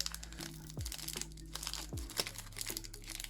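A foil Pokémon Zenith Supreme booster pack is torn open up close, with quiet bursts of crinkling and ripping over a faint electronic hum, and no one speaking.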